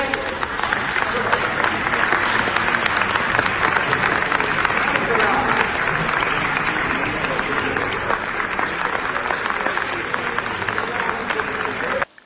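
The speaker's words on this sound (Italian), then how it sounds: "un applauso per lei." Audience at a music high school event in Alcamo gives a steady, dense round of applause for a 17-year-old contest participant, continuing evenly for about twelve seconds before cutting off.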